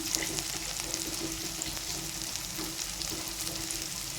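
Gentle frying in a pan after turmeric goes in with gongura leaves for a fry dish, giving a soft, steady sizzle with faint pops, quiet and close, with no voices.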